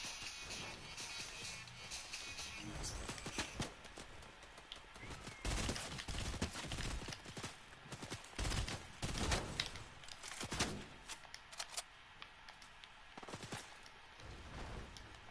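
Bursts of enemy gunfire in a shooting video game, rapid cracking volleys that come and go in clusters at a moderate distance, with no talk over them.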